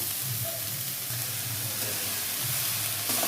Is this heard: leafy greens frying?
yes